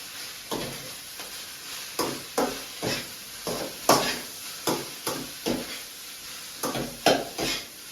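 Masala being stirred and mixed in a cooking pan, with repeated scraping strokes of a spoon against the pan over a constant hiss, roughly one stroke per second and fairly close.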